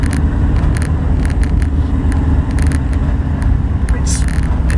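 A van drives along a road, its steady engine rumble and tyre noise running loud and continuous throughout, with a voice talking over it.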